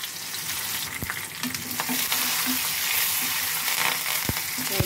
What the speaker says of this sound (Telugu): నూనె వేడైంది, మొత్తం వేసేస్తున్నా ఫ్రెండ్స్.